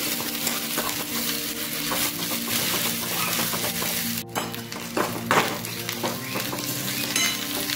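Coconut and onion paste sizzling in hot oil for an egg curry, a steady crackling fry with occasional stirring scrapes and clinks of a spoon against the pan, close and continuous.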